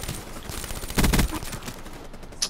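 In a video game, an XMC gun fires a short, sharp volley of shots, loud and close, in the middle of a quiet stretch of background game noise.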